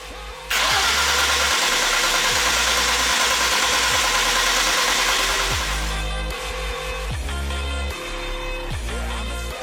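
A supercharged Ford Mustang engine cranks and roars to life, then revs loudly in rising and falling bursts, close by and alone with no voices.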